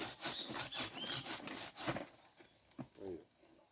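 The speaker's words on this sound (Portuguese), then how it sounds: "Aí eu vou serrar tudo que aparecer aqui" A hand saw cuts through wood and compacted roots of a collected yamadori bonsai in a steady series of close, rasping strokes, then trails off into a few softer scrapes.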